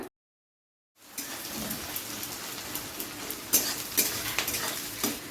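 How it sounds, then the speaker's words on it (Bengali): Chopped onion fries in hot oil with black cumin seeds, a soft steady sizzle that starts after a second of silence, with intermittent louder spatters and stirring clicks and no talking. "পেঁয়াজটাকে হালকা ভেজে নেব যাতে পেঁয়াজের কাঁচা গন্ধটা চলে যায়"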